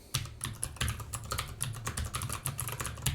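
Rapid, irregular clicking of a computer keyboard as code is typed for a compiler's type checker, close and steady with bursts of keystrokes.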